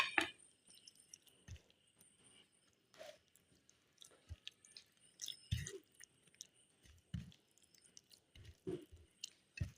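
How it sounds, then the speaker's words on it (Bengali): Hands mashing and mixing boiled teasel gourd with green chilli, mustard oil and chilli, making soft squelching, squishing sounds in short irregular bursts close up, fairly quiet. "কাঁচা লঙ্কা, সরিষার তেল আর মরিচ দিয়ে ভালো করে ভর্তাটা মেখে"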